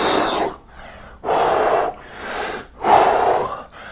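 Heavy rhythmic breathing during a resistance band upper-body exercise, three loud breathy exhalations alternating with softer inhalations, close and steady with no talking.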